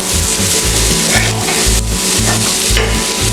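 Spiced crab masala with chopped tomatoes, turmeric, chili powder and garam masala sautés in a pan, giving a loud, steady sizzle with repeated rhythmic stirring scrapes running through it, close and without voices.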